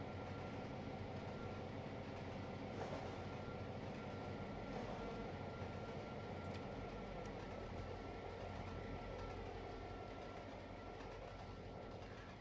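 Train running in the Trainz 22 railway simulator, a steady loud rolling rumble with engine drone and faint wheel clatter that holds throughout, with no talk.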